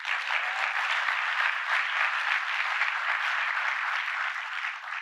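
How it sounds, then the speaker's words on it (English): An audience claps steadily through a political speech on the economy in North Carolina, a dense, even wash of applause with no speech over it, easing slightly toward the end. "you can cheer. It's all right."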